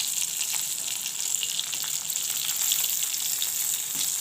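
Thick-cut onions hit hot oil already holding bay leaf and green chillies, producing an even, bright, close sizzle with light crackling that holds steady throughout without any voices.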